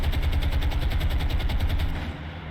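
Sustained anti-aircraft gunfire in the naval combat game War on the Sea, a dense, continuous rattle of rapid shots with rumbling low thuds, loud and steady throughout, fading slightly near the end.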